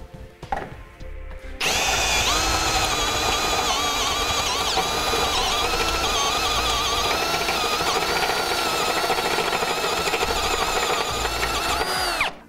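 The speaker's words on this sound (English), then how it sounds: "the reason why we drill this big hole out is for our hardware" A power drill whines loudly and steadily for about ten seconds after a short startup, boring a large hole through a car bumper close by before stopping.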